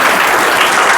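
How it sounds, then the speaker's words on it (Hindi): An audience applauds at an entrance-exam module launch event, a brief, loud, dense patter of many hands clapping at once. "तो मैं ताली बजाता हूँ अपने मैजिशियंस के लिए"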